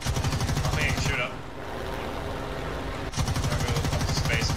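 Rapid automatic gunfire from an aircraft in War Thunder rattles in two loud bursts separated by a quieter stretch of engine drone.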